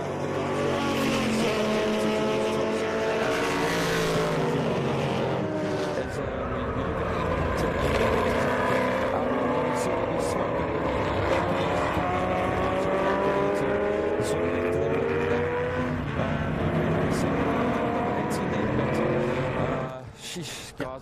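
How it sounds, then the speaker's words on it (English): Race cars, a Porsche among them, roar around a corner during a legends car race, engines loud and continuous with pitch sweeping up and down before fading out at the end. "the Porsche also come around the corner, and then Morgenroth as well, coming back now towards us"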